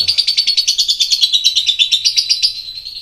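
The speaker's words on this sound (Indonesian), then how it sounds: "Ini nama burungnya siapa Mas Lavi ini?" A lovebird chirps in a fast, steady string of shrill, high tweets, loud and close, running for a few seconds before trailing off slightly, with no talking.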